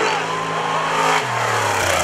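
Class 1 off-road race car engine at the Baja 500 revving hard and close, a loud steady roar that drops in pitch partway through as it shifts, with no talking over it.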